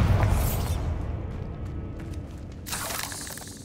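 A Bombarda blasting spell going off in Hogwarts Legacy, a loud low boom at the start that rolls into a long rumbling decay, then a fresh burst of debris-like crackle near the end.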